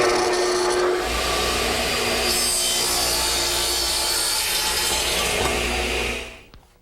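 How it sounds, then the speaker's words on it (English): A radial arm saw cuts a wooden trestle table stretcher to length, one loud continuous rasping cut lasting about five seconds and tapering off at the end, with no talk. "so I'll cut it to length here at my radial arm."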